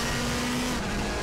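A touring car engine in the RaceRoom Racing Experience game (WTCC 2014 season, Macau circuit) holds a steady, loud drone with a constant pitch that sags briefly partway through, with no talk over it.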